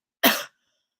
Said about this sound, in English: this cough is going to kill me